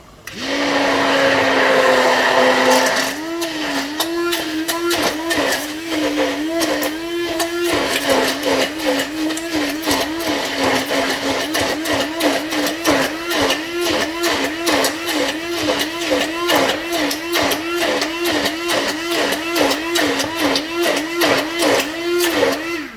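Electric mixer whirring steadily while blending vegan mayonnaise, a loud continuous motor drone with wobbling pitch and a rhythmic pulsing as the beaters churn, running alone for the whole stretch.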